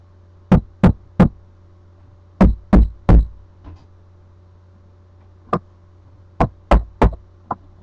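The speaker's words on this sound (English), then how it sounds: "They can be a sound like knocking on wood." Sharp raps knocking on wood come in groups of three, separated by pauses, loud and close over a low steady hum, with no voices.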